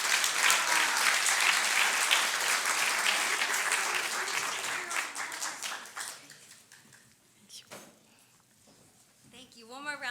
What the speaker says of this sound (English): One more round of applause for Georgia Sell.